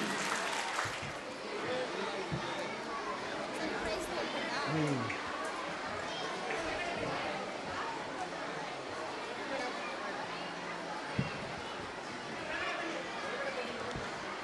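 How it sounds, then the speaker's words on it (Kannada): Parents and children applaud together at a school day event, a dense, steady wash of clapping that runs the whole stretch with crowd murmur mixed in. "ಎಲ್ಲ ಪೋಷಕರು ಮಕ್ಕಳು ಜೋರಾದ ಚಪ್ಪಾಳೆಯೊಂದಿಗೆ ಅವರಿಗೆ ಗೌರವ ಕೊಡಬೇಕು ಅಂತ ಕೇಳ್ಕೊಳ್ತಾ ಇದ್ದೀನಿ."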